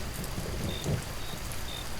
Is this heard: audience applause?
no